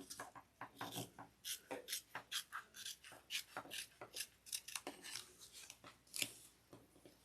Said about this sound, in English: we're going to trim the sides of the pockets